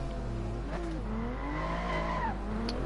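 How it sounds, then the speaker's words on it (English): A race car spins its wheels in Assetto Corsa, its tires squealing in wavering high tones over a steady low engine drone, close and continuous. "Bit of wheel spin there."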